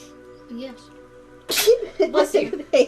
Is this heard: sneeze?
yes